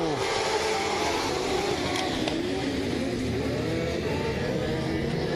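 A pack of dwarf race cars roars away at the green-flag start at HOT Speedway, engines revving loudly together in a steady, dense drone, with faint announcer talk blended in.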